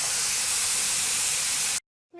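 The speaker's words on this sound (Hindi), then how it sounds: "और अब इसकी विसल उठा देंगे।" Steam hisses loudly and steadily from a pressure cooker of tripe as its whistle is lifted, then stops suddenly, leaving brief quiet before faint sounds return.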